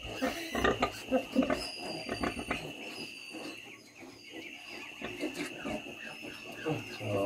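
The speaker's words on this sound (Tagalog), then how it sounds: "Baboy ko." Newborn piglets and a sow grunting and squealing in a pen just after farrowing, busy overlapping animal noises throughout at close range, with faint voices mixed in.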